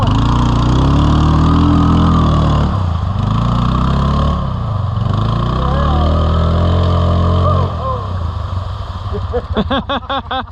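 ATV quad engine revving loudly nearby while crossing a creek in Michigan, rising and falling in pitch as throttle changes, easing off toward the end as a voice breaks in.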